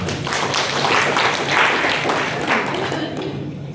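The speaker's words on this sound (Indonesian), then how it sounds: "Kita kasih aplaus untuk Pak Buya" An audience at a professorship inauguration ceremony gives a steady, dense round of clapping that holds at an even loudness for several seconds, then fades slightly at the end.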